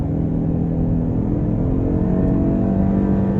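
A 2021 Genesis G80 Prestige with its 2.5-liter turbo engine pulls hard under throttle, a steady loud rumble and rising drone heard from inside the cabin, with no talking.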